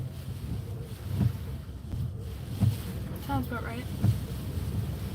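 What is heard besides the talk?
strong wind from a tropical storm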